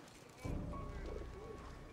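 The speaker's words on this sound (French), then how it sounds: "Le pigeon, il va venir." A pigeon cooing in a World War I video game, a soft low coo rising over steady game ambience and running noise while someone talks over it.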